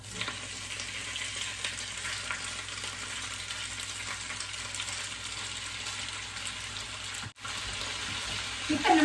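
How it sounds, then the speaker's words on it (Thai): Wide rice noodles stir-fry in hot garlic oil for rad na with marinated pork, making a continuous close, dense sizzle with stirring, a brief dropout near the end and a louder clatter as it closes. "น้ำมันร้อนเราก็ใส่เส้นใหญ่ลงไปผัด"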